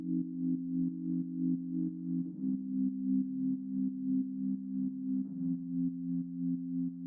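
A low, washed-out sine synth downsampled to 4K pulses in a steady rhythmic throb, its tone slightly gritty and dull, playing alone with no voices.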